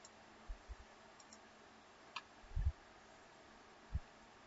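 A handful of faint computer mouse clicks, irregularly spaced, sound in an otherwise quiet room.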